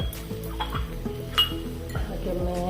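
A spoon clinks and scrapes against a pan while a semolina and jackfruit snack is stirred with cardamom powder, giving soft repeated metallic taps and scraping at close range, with a faint steady hum underneath.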